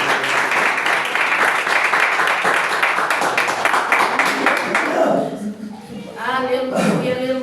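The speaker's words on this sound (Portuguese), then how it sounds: "com palmas de vitória, bem feitas para Jesus" Congregation at a church service clapping in a steady, rapid rhythm of victory applause, dense and close, which stops abruptly as a voice begins singing or speaking alone.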